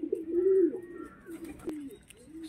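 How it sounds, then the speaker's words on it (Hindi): Pigeons gather for pieces of roti, giving soft, low cooing calls close by, with a brief sharp click partway through and quiet chirps at the end. "कबूतर रोटी के लिए आ रहे हैं सभी अपने पास।"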